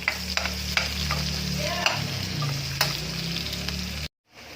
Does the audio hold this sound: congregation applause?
no